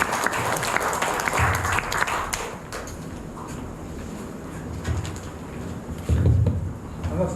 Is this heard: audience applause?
yes